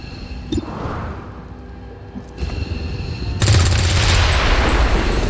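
SMG gunfire in XCOM 2 Long War of the Chosen, a loud close burst of rapid automatic shots that swells into a dense, roaring volley after a few whooshing game effects, with no talk.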